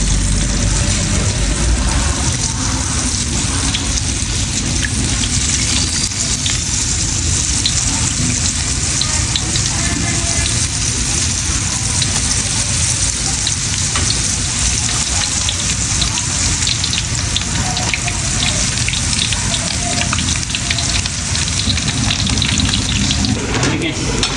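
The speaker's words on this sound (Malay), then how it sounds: "Kita goreng yang kedua ni." Steady, dense sizzling and crackling of battered chicken frying in hot oil, loud and close, continuing without pause.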